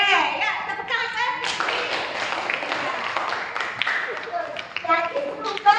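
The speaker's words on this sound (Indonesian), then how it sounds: "ya tepuk tangan." A classroom group bursts into several seconds of dense, steady hand clapping, with a teacher's and children's voices before and after it.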